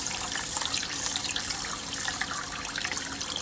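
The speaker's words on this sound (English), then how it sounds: "rinse it again and again until the water is no longer cloudy" Cold tap water runs steadily into a bowl as a cup of rice is rinsed, a continuous splashing hiss with no voices.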